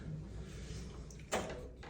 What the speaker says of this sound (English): Closing door, should you desire to have such a thing.